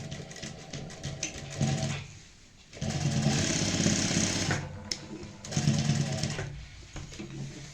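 A sewing machine runs over an existing lace seam on a sleeve, restitching it in three close bursts of fast whirring with short pauses between them.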